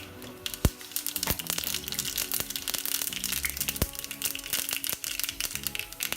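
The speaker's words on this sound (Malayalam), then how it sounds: "കടുക് ഇട്ട് കൊടുക്കാം." Mustard seeds splutter in hot oil for a Kerala beetroot pachadi, a dense, continuous crackle and popping with sharp louder pops standing out, close and steady throughout.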